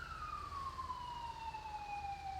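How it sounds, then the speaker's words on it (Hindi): Police siren in GTA 5, a single long falling wail sounding at a distance over a low rumbling background, faint and steady. "साइरन का आवाज आ रहा है कहीं से"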